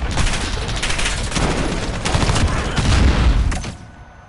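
Dense, continuous gunfire rattles loud and close in the Modern Warfare video game, a sustained volley of overlapping shots and booms that cuts off abruptly at the end.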